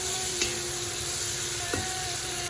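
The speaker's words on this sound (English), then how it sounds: "you let it stir fry for like 2 to 3 minutes while stirring" Steady sizzling of chicken stir-frying in a pan, with a couple of brief scraping stirs, no talking.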